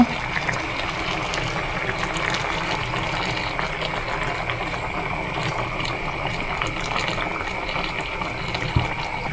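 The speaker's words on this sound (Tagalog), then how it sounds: "Maglalagay na rin po tayo ng kakanggata." Coconut cream poured into a cooking pot of ginataang burubuto with kamias and puso ng saging, a steady liquid pouring and splashing sound, close and moderately loud throughout, with no talking.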